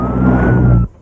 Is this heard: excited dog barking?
no